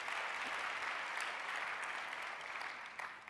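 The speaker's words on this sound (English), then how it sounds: "They deserve a round of applause." Audience applause at a public health leadership talk, a steady wash of clapping from a crowd that holds for several seconds and tapers slightly at the end.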